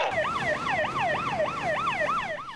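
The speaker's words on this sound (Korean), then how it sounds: "긴급 출동한 해경배가 사이렌을 울려 주변 선박의 접근을 차단합니다" A coast guard boat's siren wails near a chemical tanker that is on fire and leaking sulfuric acid. The loud, steady siren rises and falls in quick repeating sweeps, with no voices.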